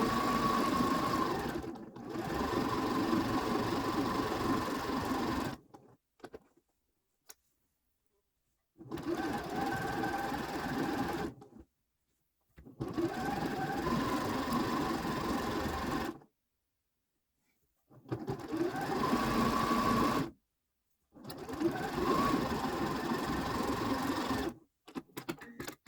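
A sewing machine stitching fabric runs in several steady buzzing bursts of a few seconds each, separated by short silent pauses, close and fairly loud.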